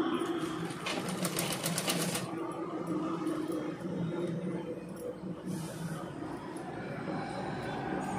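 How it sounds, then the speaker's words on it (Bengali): A sewing machine runs steadily, stitching half an inch above the edge of blouse fabric around a round neck, with a fast, even whirring stitch rhythm that speeds up briefly near the start. "একেবারে হাফ ইঞ্চির ওপরে আমি সেলাইটা দিয়েই যাচ্ছি"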